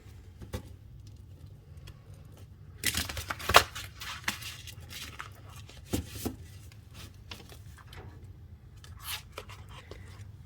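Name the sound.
shuffling a deck of cards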